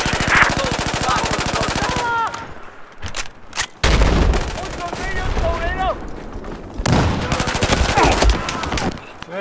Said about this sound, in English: Attention, hostile machine gun.